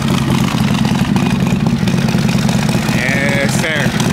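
A cammed Harley-Davidson Road Glide with its tuner removed idles roughly up close, a loud, lumpy, uneven engine throb with clattery mechanical noise, while voices talk briefly near the end.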